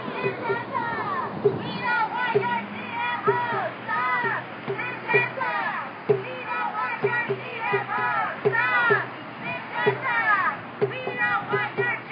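An outdoor protest crowd against Syngenta over GMOs, heard up close as a steady murmur of many overlapping voices, scattered nearby chatter and children, with no chanting.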